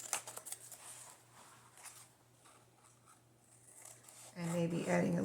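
Scissors snip off the extra paper from a junk journal page in several quick, close cuts, followed by a louder rustling and handling noise. A voice talks over part of it.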